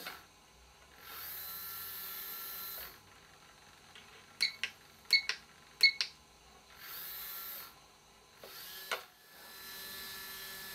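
A continuously rotating servo runs on a 4.8 volt battery at 50 RPM, giving a faint, thin whine that starts and stops several times, with a few sharp clicking bursts in between and no talking.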